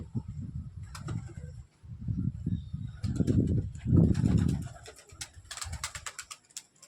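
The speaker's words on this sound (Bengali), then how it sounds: "দেখো ফুলশিরা নটটা ফুলশিরা মাদিটাকে ডাকছে।" A male Fulshira pigeon coos in repeated low, throaty bursts as it calls to a female, close by and fairly loud, with brief wing flaps near the end.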